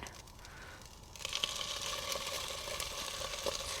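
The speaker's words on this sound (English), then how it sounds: "I'm going to start with some cooking cream, and I'm probably going to use more of this than I am the other stuff. I'm just going to stir it a bit." Cooking cream gets stirred in a pan at a caravan camp, a soft scraping and gentle sizzling that starts quietly, then grows steadier and fuller partway through.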